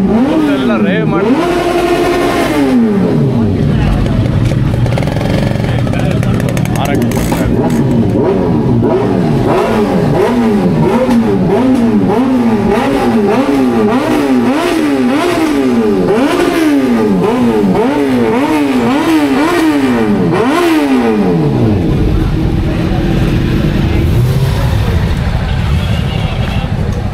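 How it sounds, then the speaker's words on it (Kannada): Superbikes at the MOTO Carnival 2025 bikers' event near Chennai rev loudly and repeatedly, the engine pitch rising and falling in rapid sweeping bursts close by, over a steady crowd babble. "ಕಂಪ್ಲೀಟ್ಲಿ ಇವೆಲ್ಲನೂ ಕಂಪ್ಲೀಟ್ಲಿ ಸೂಪರ್ ಬೈಕ್ಸ್."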